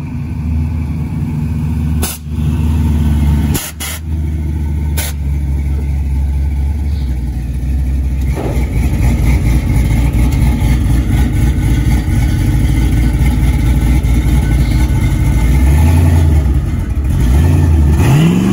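A Chevy C10 short bed truck's engine runs with its gas pedal stuck, a loud close rumble with sharp revving bursts early on, then a steady high-revving drone holding through to the end.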